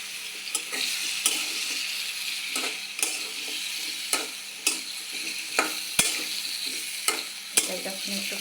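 Radish fries in a pan while a spatula stirs it, a low continuous sizzle punctuated by regular sharp scraping knocks against the metal roughly every half second, close up.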